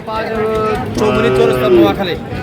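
A cow lets out a long, loud moo close by at a livestock market in Noakhali, Bangladesh, with harmonic lowing rising and falling over a couple of seconds amid background voices.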